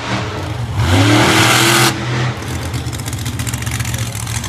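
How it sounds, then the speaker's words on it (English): The KnuckleHead monster truck roars as its engine revs hard and the tires break traction, a loud surging burst with rising pitch that drops away into a rough, pulsing idle rumble. "Breaking traction for sure, the knucklehead truck."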